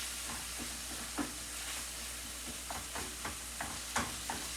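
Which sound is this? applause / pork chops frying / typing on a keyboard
pork chops frying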